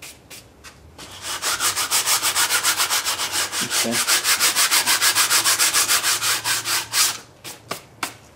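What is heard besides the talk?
36 grit sandpaper sanding brass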